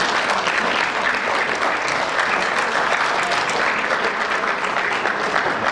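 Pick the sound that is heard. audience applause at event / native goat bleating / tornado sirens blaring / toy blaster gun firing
audience applause at event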